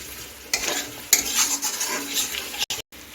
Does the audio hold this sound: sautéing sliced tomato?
yes